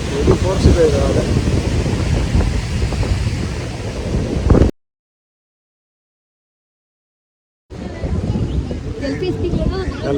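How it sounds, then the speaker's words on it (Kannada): Forceful ocean waves surge at Kanyakumari beach amid wind rumble on the microphone, loud and close, broken by a few seconds of dead silence midway. "ಫೋರ್ಸ್ ಇದೆ ಇದು ಅಲೆ"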